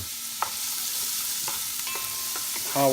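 Onions hit hot olive oil in a pan for paksiw na pata, giving a close, even sizzle with a few light stirring clicks and no talk.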